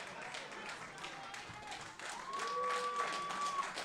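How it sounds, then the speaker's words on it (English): Wrestling crowd at a Monster Factory show applauding Christian Darling after a tough loss, scattered clapping that swells toward the end, heard under a commentator's voice and a sustained whistle-like tone. "Crowd giving Christian Darling a round of applause for his efforts as he makes his way to his feet."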